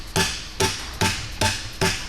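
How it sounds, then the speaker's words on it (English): Five sharp, evenly spaced thuds from a small dead blow hammer striking a rocker arm on a Caterpillar 3306 diesel engine torn down after catastrophic failure, close and loud with no talk. "Let me just hit this with a hammer, a little dead blow, and we'll see if that valve is still good."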